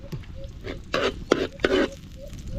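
Garlic and onion sauté in cooking oil with a low sizzle, broken by three or four close stirring scrapes of a utensil in the pan. There is no speech.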